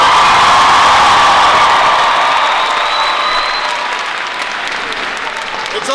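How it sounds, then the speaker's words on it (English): A large crowd at a Barack Obama speech at George Mason University breaks into loud sustained applause with scattered cheers and whoops, slowly thinning over several seconds. "Can you give her a big round of applause?"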